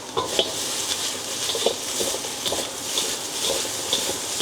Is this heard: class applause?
no